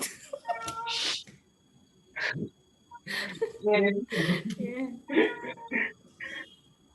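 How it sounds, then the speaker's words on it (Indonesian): A cat meows softly in the background near the start while a person talks in the foreground, the meow faint and partly under the voice. "Backgroundnya suara kucing lucu banget ya."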